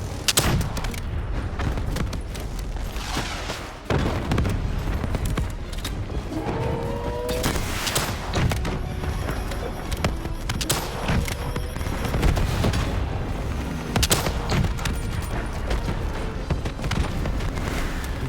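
Gunfire rattles in Call of Duty Black Ops 3, repeated sharp shots and bursts spread through the scene at steady loudness amid other game noise, with no talking.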